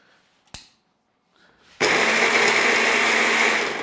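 A food processor blitzes tofu marinade ingredients, fresh chili among them, as a steady loud whirring roar that starts abruptly after a brief clack and some quiet handling, then runs continuously to the end.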